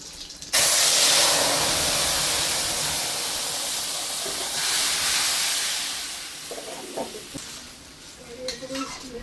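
Curry tipped into a hot pan for a fish-head and potato dish erupts in a loud burst of hissing steam and sizzle, which slowly fades as stirring scrapes and clatters follow near the end.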